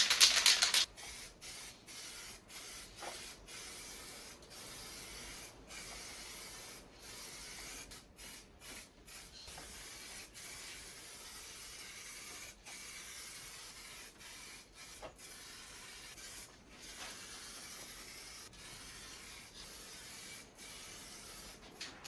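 Spray gun laying a blue base coat onto an MG3 car body during a home respray, a steady hissing spray broken by frequent short pauses between passes, close and moderately loud.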